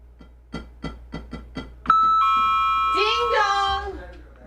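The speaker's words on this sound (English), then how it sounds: "Ding dong" A doorbell sound effect rings out on a radio show: a sharp electronic chime that sustains and decays, preceded by a run of soft rhythmic taps and followed by a voice speaking over its tail.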